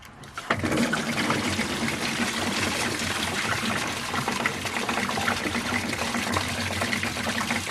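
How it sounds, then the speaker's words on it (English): Coolant drains from a Volvo during radiator, thermostat and water pump replacement, a steady splashing gush that starts after a brief pause and continues unbroken to the end. "so in order to do that we need to drain the coolant"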